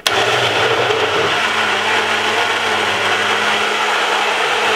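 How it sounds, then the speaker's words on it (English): A Ninja blender blending a spinach, ginger, lemon, honey and cucumber smoothie whirs loudly right up close, starting abruptly and then holding a constant high-speed roar as the pitch settles slightly lower. "we're going to blend it for about 3 to 4 minutes in your blender or your Ninja blender"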